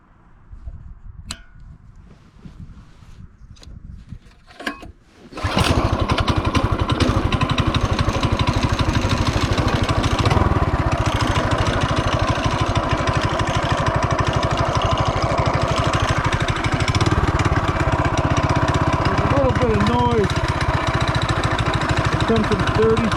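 A Coleman CT200U minibike with a 16mm torque converter starts after a few quiet seconds, then runs loud and close at a steady, buzzing idle with a raised-RPM drone. A voice talks briefly before it starts.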